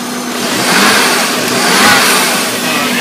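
A Volvo 850 engine with a Forge blow-off valve revs loud and close, rising and falling in two swells over a rough, steady running tone.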